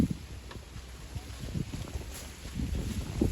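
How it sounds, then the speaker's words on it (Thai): Strong wind buffets the microphone in a cherry orchard in Germany, a steady low rumble with gusts that swell louder toward the end. "ลมแรงมากค่ะ"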